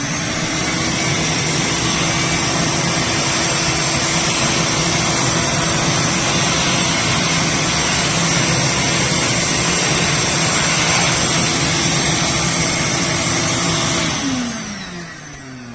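A shop vac hooked up for dust collection on a workbench runs with a loud, steady roar and whine for about fourteen seconds, then winds down as it switches off.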